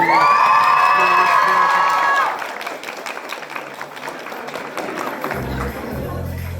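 A crowd applauds, cheers and whoops at a cosplay contest, loud and dense, with a high shouted call over the start before the noise settles into sustained clapping, a voice entering near the end.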